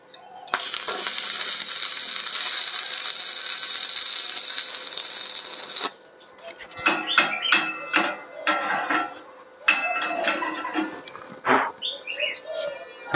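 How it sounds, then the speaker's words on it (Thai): An arc welder runs a drag bead along a 90-degree corner joint at 90 amps, giving a steady, loud crackling hiss for about five seconds, then stopping abruptly into a series of sharp metallic clicks and taps. "ก็จะใช้ไฟ90แอมป์จะลองเชื่อมลากเหมือนกับตัวนี้ดูว่ามันจะออกมาประมาณไหน"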